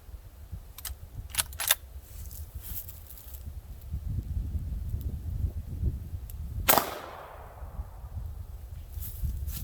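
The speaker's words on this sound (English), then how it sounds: "I will shoot that watermelon crush right over there" A Winchester 1892 lever-action rifle firing .45 Colt at a watermelon outdoors gives one loud, sharp report with a trailing echo, preceded by a few small clicks of handling against a faint outdoor background.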